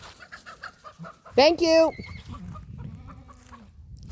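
Chickens cluck and squawk loudly in a short burst near a livestock guardian dog, with softer clucks around it and a brief spoken phrase.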